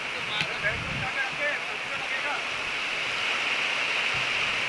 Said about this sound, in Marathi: पावसाची देखील सर जोरात चालू आहे.